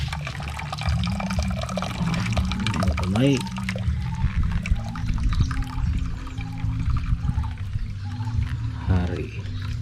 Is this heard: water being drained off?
yes